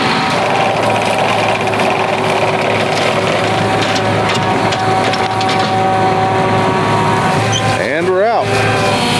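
A heavy tractor engine labors steadily and loud throughout while pulling a tile plow, with a rising whine of strain near the end as the machine pulls hard.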